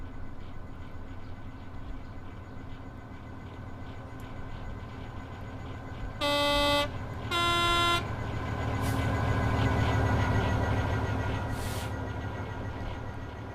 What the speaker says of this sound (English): Do a little flyby and hear the Doppler effect of the engine go by.